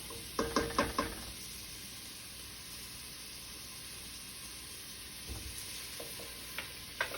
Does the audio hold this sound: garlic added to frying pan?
yes